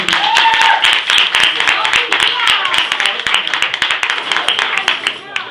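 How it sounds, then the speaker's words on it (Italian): Party guests applaud a woman at her birthday celebration, steady loud clapping filling the room for several seconds, with scattered voices and a cheer over it. "Un forte applauso alla festeggiata, dai."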